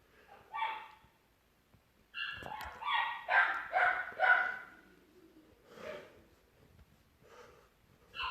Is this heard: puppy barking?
yes